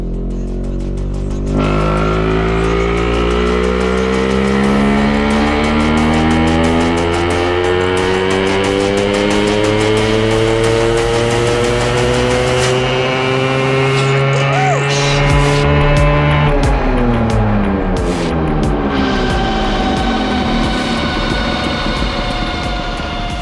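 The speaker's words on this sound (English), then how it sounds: "Crazy pulls from the Suzuki Samurai." A Suzuki Samurai engine screams through a loud dyno pull, its pitch rising steadily for many seconds before it drops and climbs again in the next gear, droning throughout.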